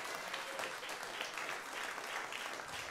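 Steady, dense applause from a comedy club audience at the Ice House fills the whole stretch, loud and continuous with no voices rising above it.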